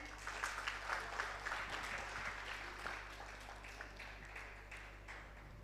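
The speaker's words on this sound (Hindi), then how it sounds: "बहुत सारी तालियां हो जाएं" Applause from a convention audience, a fairly faint wash of clapping heard over a steady low electrical hum, peaking early and then thinning out over several seconds.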